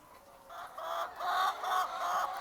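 Hens cluck in a laying house holding about a thousand chickens, a moderately loud run of rhythmic clucks rising and falling over a quiet background hum.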